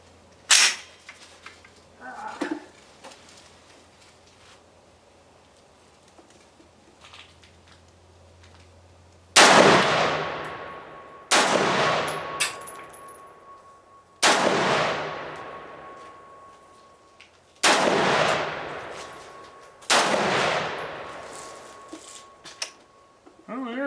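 Five sharp rifle shots from a CETME L fired one at a time, each a loud close crack with a ringing decay, spaced a couple of seconds apart after a quieter stretch of faint handling sounds.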